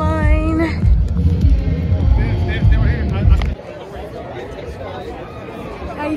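Crowd gathered at the start of the DC Rock 'n' Roll Half Marathon, a steady outdoor babble of many voices with nearby people talking over it, then a thinner murmur.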